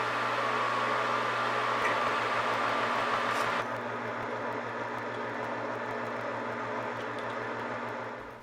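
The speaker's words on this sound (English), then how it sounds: "Now I'll drill a 17/64 inch hole, which I'll later tap for a 5/16 18 thread" A drill bores a 17/64 inch hole into a belt grinder contact wheel, giving a steady, loud whirring motor drone with a low hum that drops slightly in level partway through and continues evenly.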